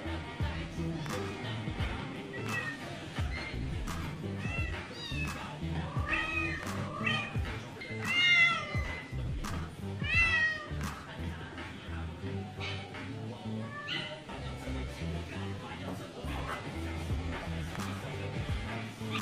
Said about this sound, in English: This lucrative kitten escapes her cage to play with her puppy friend.